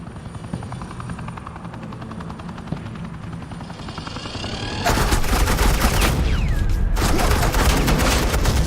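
Suppressing gunfire in Batman: The Enemy Within, a dense loud burst of rapid shots that erupts over a steady helicopter drone and keeps pounding for several seconds.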